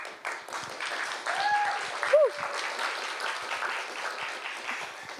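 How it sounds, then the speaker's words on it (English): An audience at a talks event gives the speakers a round of applause, a soft, distant, steady patter of clapping with a voice briefly rising above it. "Could everyone give them the biggest round of applause possible?"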